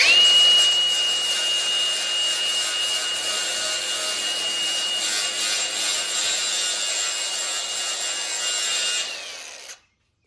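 A freshly cut metal edge on a Firebird or Camaro body, first cut with a cutoff wheel, being dressed down. A steady, loud abrasive rasping runs continuously for about nine seconds, then cuts off abruptly.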